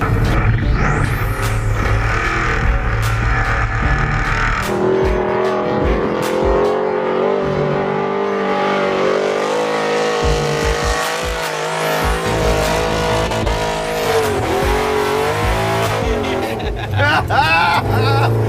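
A 1974 Chevy Laguna on bogger tires roars under hard acceleration, its loud V8-style engine note rising and shifting with brief tire chirps, while occupants talk excitedly over it.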